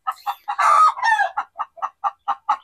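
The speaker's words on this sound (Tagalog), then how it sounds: "Ang ingay ng ating manok." A chicken clucks in a quick, regular series of short calls, with a longer, louder squawk early on, close and clear.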